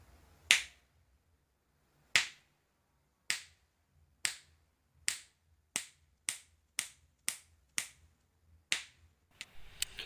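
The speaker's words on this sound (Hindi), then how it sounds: "मैं फिर से चुटकी बजाऊँगा" Finger snaps aimed at a homemade clap-controlled switch for a bulb or fan load: about a dozen crisp, close snaps, well spaced at first, then quickening into a faster run, with near silence between them.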